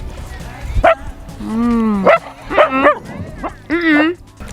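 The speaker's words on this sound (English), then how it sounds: "Roxy's barking at another dog" A dog barks and yips several times in quick, uneven bursts, close and loud, with a whiny edge between barks.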